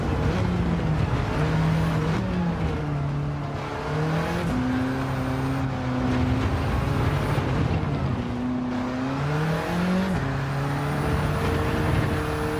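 A game car's engine drones steadily while descending a hill in fifth gear in Gran Turismo 7, with rising and falling pitch as the revs shift, loud and continuous throughout.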